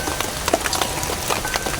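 Rain falling at a hut during a night of solo camping near a graveyard, a steady patter with scattered sharp drop clicks throughout, no talking.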